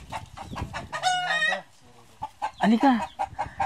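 A chicken clucks and squawks up close in short bursts, with people talking around it.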